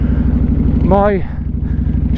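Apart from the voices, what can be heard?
V-twin motorcycle engine with loud exhaust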